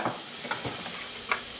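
Onions caramelizing in a pan give a soft, steady sizzle broken by a few quick stirring scrapes, heard close and fairly quiet.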